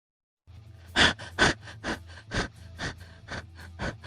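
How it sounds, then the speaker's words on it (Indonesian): Breathy panting heard alone and close, a steady series of sharp gasping breaths about twice a second. "Tinggal kasih efek suara terengah-engah"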